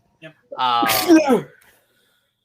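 A single sharp sneeze bursts out close to the microphone during a sports talk show, with a short spoken word just before it and a faint sound at the very end.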